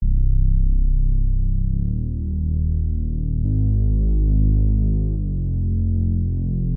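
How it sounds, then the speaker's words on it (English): A Reese bass patch built in the Serum synthesizer drones steadily on its own, a thick, low, detuned throbbing tone that slowly beats and shifts pitch partway through, with no voices. "It's called the Reese bass."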